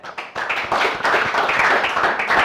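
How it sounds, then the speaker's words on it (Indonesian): A classroom of students breaks into applause, with a few scattered claps at first building into steady, dense clapping that carries through to the end. "Berikan aplaus deh."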